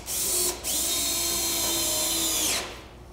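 Power drill driving large screws into a pilot's seat, a steady loud whir that pauses briefly, then runs continuously for about two seconds before winding down.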